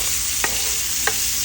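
Bacon frying in a pan gives off a steady, even sizzling hiss, with two faint clicks from the pan partway through.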